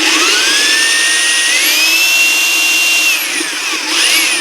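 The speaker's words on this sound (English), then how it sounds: "we need to drill a hole here" A power drill whines loudly and close by, its pitch rising as it speeds up, dipping briefly near the end, then climbing again.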